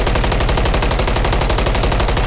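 Rapid, loud automatic gunfire from a rifle fitted with a muzzle brake in Modern Warfare III, a continuous rattling stream of closely spaced shots with no pause.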